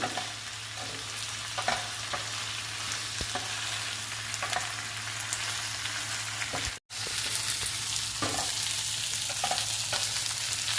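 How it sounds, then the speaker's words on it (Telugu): Pieces of ivy gourd fry in oil with a constant close sizzle, punctuated by irregular scraping clicks of a spatula stirring them, with a momentary dropout near the middle and no voices. "దొండకాయ ముక్కల్ని కలుపుకుంటూ వేయించుకోవాలి, అప్పుడే చాలా బాగుంటుందండి దొండకాయ ఫ్రై"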